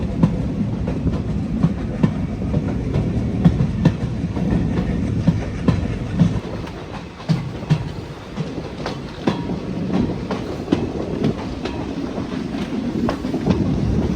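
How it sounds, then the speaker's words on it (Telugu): A train on the Kollam to Sengottai line rolls across a three-arch bridge, with a steady, loud rumble of wheels and a light, continuous clickety-clack throughout. "ఇప్పుడైతే మన ట్రైన్ 3 ఆర్చ్ బ్రిడ్జ్ నుంచి అయితే వెళ్ళబోతుంది అనమాట."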